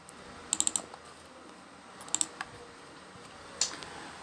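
Short bursts of typing on a computer keyboard during a networking lab session, quick clusters of keystroke clicks at three points separated by quiet pauses, fairly close and alone.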